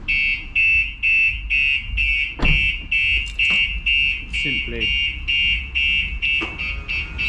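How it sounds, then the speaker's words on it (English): A 2024 Range Rover's StarLine S96 aftermarket alarm blares a rapid repeating electronic tone continuously, loud and close, triggered by opening the door, with someone speaking briefly over it and some clicks. "if I was to open the vehicle door, the alarm system will go off"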